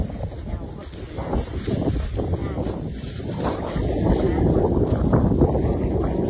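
Wind blows outdoors, buffeting the microphone with a loud, continuous rushing roar that swells in gusts and grows stronger toward the end.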